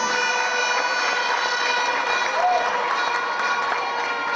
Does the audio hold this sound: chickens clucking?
no